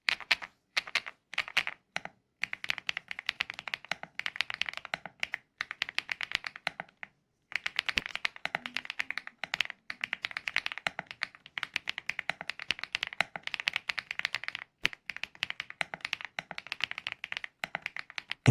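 A mechanical keyboard is typed on steadily and quickly, giving a dense, crisp, close clatter of keystrokes with one brief pause midway and no talking.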